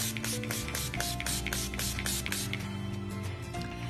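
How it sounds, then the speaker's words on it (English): A rosewater toning spray is spritzed onto a face in a quick rhythmic series of soft misting hisses, about a dozen close puffs in a row, faint and clear, with no talking. "Today I'm going to use this Rosewater toning spritz."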